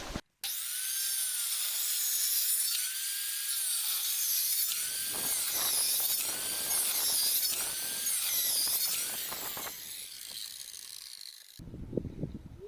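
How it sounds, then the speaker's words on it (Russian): Circular saw making a series of cuts into a wooden beam for a shed's frame foundation, a sustained high whine with grinding and rasping as the blade bites, ending abruptly, followed by brief handling knocks. "берем циркулярную пилу и делаем запилы"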